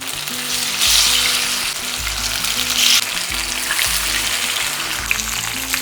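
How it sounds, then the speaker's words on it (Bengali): Katla fish pieces sizzle and crackle steadily in hot oil, with a few bursts of louder spitting and some low kitchen clatter running underneath, close and continuous throughout. "তেল বেশ ভালো মতো গরম হয়ে যাওয়ার পরে মাছগুলো একে একে ছেড়ে দেব"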